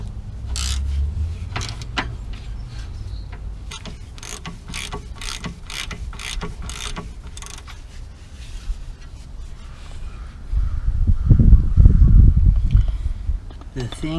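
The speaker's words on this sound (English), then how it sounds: "so it's a 13mm bolt, which we are gonna tighten right now" A ratchet clicks in quick repeated bursts while tightening a 13mm bolt on the tie rod of a BMW E90 330xi, close and fairly faint, with a person talking during the clip and a low clunk near the end.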